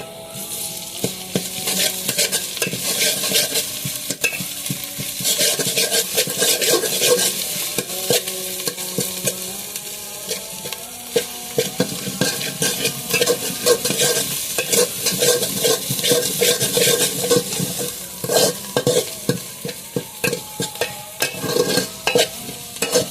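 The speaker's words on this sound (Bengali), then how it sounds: "এখন আদা রসুন পেস্টটা দিয়ে দিচ্ছি" Ginger garlic paste frying in oil for tahari, stirred continuously. A close, loud, steady sizzle runs throughout, broken by repeated scraping and clinking strokes of the spoon against the pot, with no talking.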